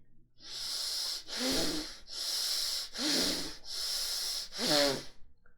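Slow, deep breathing is shown as belly breathing. Five long, rushing breaths come close and loud, each with a rough, snorting edge that rises and falls in an even rhythm, with short pauses between them.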